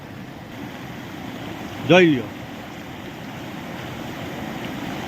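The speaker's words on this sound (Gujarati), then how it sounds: "આ એક જ ખેતરનું પાણી જો એટલું પડે છે" Heavy rainwater runs off a single farm field toward a river during a downpour, a steady broadband rush close by. A voice briefly speaks over it partway through.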